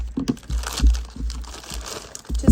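Scissors cutting a sheet of grid paper for journaling, a series of close crisp snips and rustles of handled paper in short irregular strokes.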